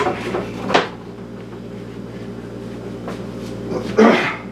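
A wooden door is laid down on a board: two dull wooden thumps, one near the start and a heavier one toward the end, with quiet shuffling and a steady low hum between them.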